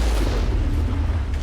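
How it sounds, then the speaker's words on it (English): A cannon blast from the Mass Effect video game booms in a heavy, deep rumble that fills the whole short moment, loud and close with no speech over it. "the cannon's got some serious range on it, as well as good splash damage"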